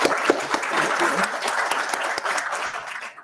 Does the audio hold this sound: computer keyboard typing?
no